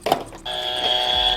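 A quiz show buzzer sounds after a brief bright attack, a steady loud electronic tone held for about a second before cutting off, close and alone.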